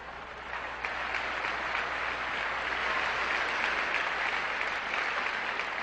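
A church congregation applauds during a sermon, a steady wash of clapping that holds at an even level for several seconds with no voice over it.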